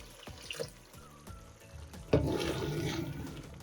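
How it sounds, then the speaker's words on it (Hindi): Half a glass of water is poured into meat browning in a pan for aloo gosht, a soft splash followed by steady hissing and sizzling at moderate loudness, with faint kitchen clatter before it. "अब इसमें मैं आधा गिलास पानी डाल देती हूँ।"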